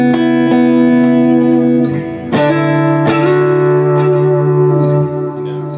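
Sustained electric guitar notes and chords are played through a Mesa Boogie Road King II amplifier with delay and reverb, with several plucked attacks ringing out into long echoing tails, loud and close with no talking.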